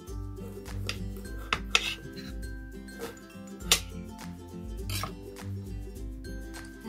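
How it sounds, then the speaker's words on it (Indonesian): A knife slices through a lime on a cutting board, giving several quiet, sharp taps and scraping cuts at an irregular rhythm over a steady low background hum. "Ini jeruk nipisnya teman-teman, saya akan potong dulu."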